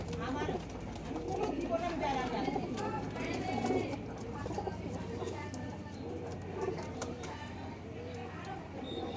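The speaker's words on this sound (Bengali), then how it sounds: "এই যে এই দুইটা ধরেছি কবুতর" Pigeons cooing close by in low repeated calls, heard beneath people talking.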